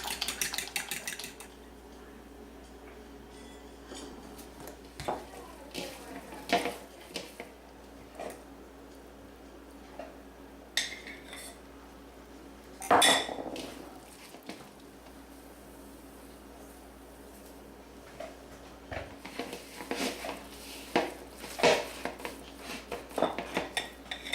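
Mayonnaise and four eggs are beaten smooth in a bowl, with irregular clinks and scrapes of a utensil against the bowl and soft squishing, fairly faint and close, carrying on for a long stretch.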